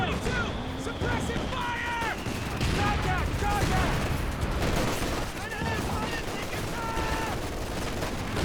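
Rifle grenade blasts and steady small-arms fire in a Company of Heroes 2 match, dense and continuous with overlapping shots and bursts, loud throughout.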